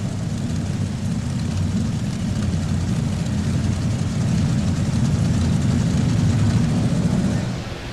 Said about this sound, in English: Elliott just shuts her down real quick as he made his run right there with that Millinen Engines machine